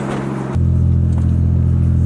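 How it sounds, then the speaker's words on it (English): Engine of a 1994 Toyota Supra turbo with an HKS blow-off valve, a steady loud low rumble that jumps in level partway through as the turbo spools up, close and alone. "the whining noise you hear was the turbo spooling up already"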